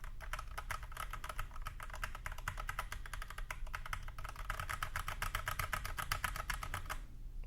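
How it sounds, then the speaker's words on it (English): Rapid, continuous clacking of typing on an iLovBee i61 mechanical keyboard with stock keycaps and no tape mod, close and even in rhythm, with no talking. "stock, this is how these keycaps sound here"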